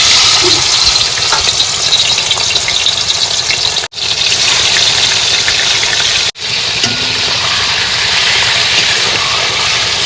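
Fish sizzling steadily in hot oil for a home-cooked Bengali meal, a loud continuous crackle and hiss that runs throughout, broken only by two brief dropouts, with no talking.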